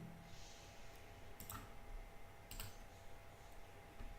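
Quiet computer mouse clicks on a Deepin 15.8 Linux desktop, a few sharp isolated clicks spaced about a second apart over a faint steady hum.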